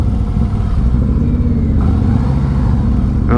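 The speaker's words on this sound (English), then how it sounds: "The way a Harley starts up, man, nothing like it." A Harley-Davidson Glide motorcycle engine runs close by with a steady, loud low rumble and slight clatter, holding an even idle throughout with no talking.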